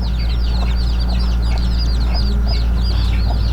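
Native chickens clucking and chirping in a repeated, busy pattern over a steady low hum, fairly close and moderately loud.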